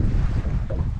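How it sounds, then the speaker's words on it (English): Strong wind buffets the microphone on a beach by the sea, a loud, steady low rumble with no speech. "The wind's blowing a little bit too much, making it a bit too ripply"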